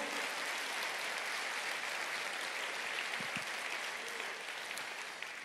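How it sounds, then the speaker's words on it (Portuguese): A church congregation applauding during a Portuguese-language sermon, dense continuous clapping at moderate distance that tapers slightly at the end. "Você pode aplaudir o Senhor?"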